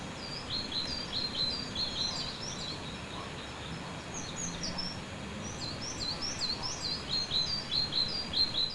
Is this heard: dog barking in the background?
no